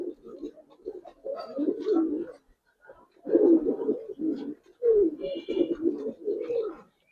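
A pair of Giribaz pigeons coo at close range in repeated rolling bursts, separated by short quiet pauses.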